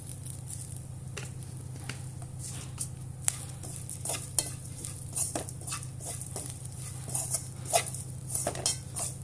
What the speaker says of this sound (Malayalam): ഇനി നമ്മൾ തുടരെ ഇളക്കിക്കൊണ്ടേയിരിക്കണം